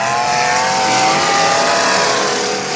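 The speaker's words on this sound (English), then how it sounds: "Got a great sounding motor in that 100 car of Peterson." A demolition derby car's engine revving hard at a Yuba City, California spring derby, a loud sustained roar with steady high whine, close and continuous throughout.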